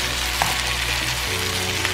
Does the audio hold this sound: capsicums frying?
yes